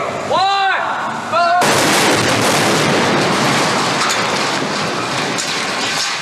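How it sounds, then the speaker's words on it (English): A large staged explosion erupts on the Transformers film set, a sudden loud blast that rolls into a long, sustained roar of debris and effects, after a brief voice beforehand. "huge, logistically complicated scenes of massive destruction and explosions"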